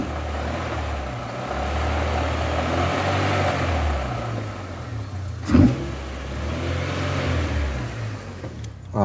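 A 2000s-era Mini One 1.6 90 hp 16-valve petrol engine idles steadily with the clutch pedal pressed, a low continuous hum with a faint mechanical noise suspected from the clutch release bearing, plus one brief knock midway.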